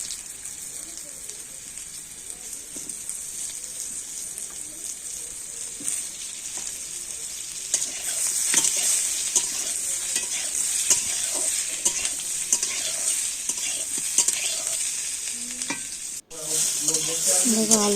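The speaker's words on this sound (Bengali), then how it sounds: "কড়াই তেলে 5 ফোড়ন তেজপাতা ফোড়ন দিয়েছি, দিয়ে আলুটাকে দিয়ে একটু ভাজা ভাজা করে নেব" Potatoes fry in hot oil in a kadai with bay leaves and five-spice, giving a steady, dense sizzle. Scraping stirs and occasional clinks run through it continuously at close range.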